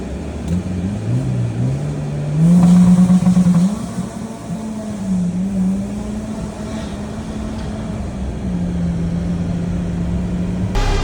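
A car with a stock engine launches on boost using a two-step, its engine note rising sharply into a loud surge around the third second, then settling into a steady drone that builds again near the end.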